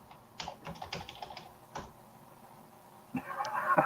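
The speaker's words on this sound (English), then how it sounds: "You're typing." A brief flurry of close keyboard typing, quick irregular clicks over about two seconds, followed by a pause and then a rising rustling noise.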